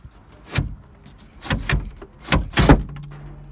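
A Citroën BX sunroof being worked, giving a few separate mechanical clunks and slides spaced over a few seconds, close by, ending with a short steady motor hum.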